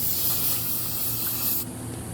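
Aerosol cleaner sprayed onto a 1997 Johnson 115 hp outboard motor with side covers off, a continuous loud hiss lasting about a second and a half before fading.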